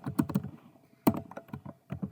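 A computer keyboard is typed on up close: a short burst of crisp key clicks, a brief pause, then a few more scattered keystrokes.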